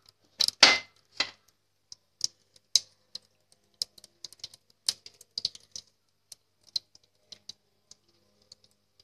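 Mustard seeds crackle in hot oil in a kadai while tempering drumstick leaf thoran: a close burst of sharp pops, then scattered irregular snaps thinning out over several seconds.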